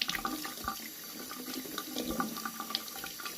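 Water running from a tap in an apartment while something is wetted, a faint, steady splashing stream with small drips and clinks, no talk.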